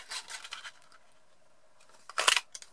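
Scissors snip a small leftover scrap of paper, Wasabi green card stock, in a few quick, close cuts. Brief crisp bursts come at the start and again near the end, with quiet in between.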